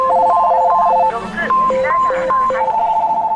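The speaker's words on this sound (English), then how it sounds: "there are racks and racks of phones, all ringing and playing their answering machines." Many telephones on racks in a Kyoto electronics store ring at once, a dense overlapping chorus of electronic trills and melodic tones playing loudly and continuously, with recorded answering-machine voices mixed in.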